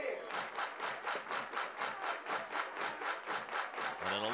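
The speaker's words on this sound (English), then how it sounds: "Everybody clap your hands." A stadium crowd at a college baseball game claps in unison, a steady rhythmic beat of many hands at about three claps per second, with cheering mixed in and a brief shout near the end.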